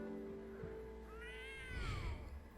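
A cat in The Sims 3 meows once, a rising and falling mew in the middle, over quiet game background music.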